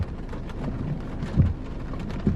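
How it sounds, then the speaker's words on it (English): Heavy rain pouring in a redwood forest in California, a dense steady wash of drops with a couple of low thumps, close and continuous with no talking. "it's raining super fast now"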